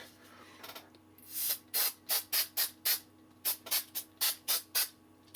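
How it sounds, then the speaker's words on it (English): Short hissing bursts from a can of spray adhesive, about a dozen quick sprays in a loose rhythm, close by with no talking. "This time I'm going to use spray adhesive"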